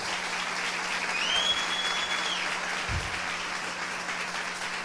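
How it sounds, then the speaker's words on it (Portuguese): Applause from a church congregation fills the space steadily, a dense wash of many hands clapping at even loudness throughout, with a brief low thump partway through. "Você pode aplaudir a Ele"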